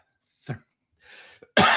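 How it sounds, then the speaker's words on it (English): A single sharp cough rings out close and loud, followed by a faint breathy rasp and a second harsher burst of coughing right at the end. "I'm coughing"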